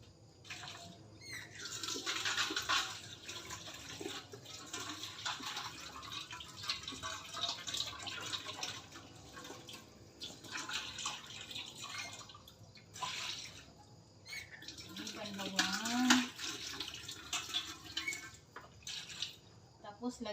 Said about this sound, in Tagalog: So hugasan ko muna ang aking electric cooker